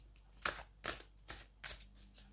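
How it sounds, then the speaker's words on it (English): A deck of cards is riffled and shuffled in five quick, evenly spaced bursts, close and fairly quiet, with no talking. "you would not believe the difference that makes in shuffling"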